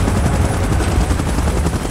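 Helicopter in the mobile battle game PUBG Mobile, a steady loud rotor drone with dense low throbbing and a high whine, continuous for under two seconds with no voices.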